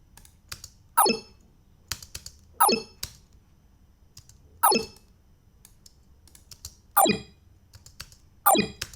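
A synthesized user-interface approval tone built on a Steinberg Prologue synth and pitched down, repeated about five times at irregular intervals, each a short, sharp blip sweeping downward, heard alone against near silence.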